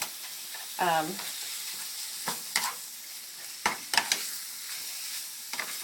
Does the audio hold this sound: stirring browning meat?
yes